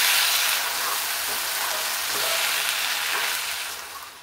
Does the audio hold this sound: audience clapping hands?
no